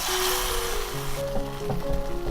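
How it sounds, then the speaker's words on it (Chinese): Half a bowl of boiling water hits a hot pan of stir-fried straw mushrooms and carrots, giving a loud burst of hiss that eases into a softer bubbling sizzle over a couple of seconds. "再来淋入小半碗开水"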